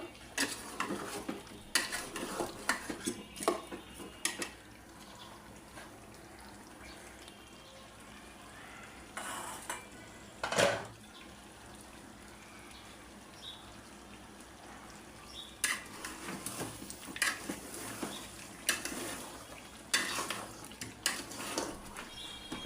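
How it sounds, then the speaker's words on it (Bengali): Beef being stir-fried in a pan with green chillies, onions and potatoes, a quiet low sizzle broken by intermittent scraping and clinking of a spoon against the pan, no speech. "আমি কাঁচামরিচ, পেঁয়াজ আর আলু দিয়ে আরো 2 মিনিট কষায় নিলাম।"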